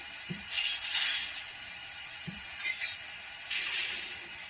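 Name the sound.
model train coupler sounds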